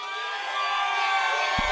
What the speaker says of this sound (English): show me what a Garden crowd's supposed to sound like right now